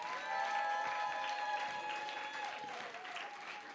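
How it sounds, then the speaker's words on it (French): Faint, distant applause and cheering from a church congregation, mixed with lingering musical tones and a soft crowd murmur that gradually thins. "Est-ce qu'on peut acclamer Jésus?"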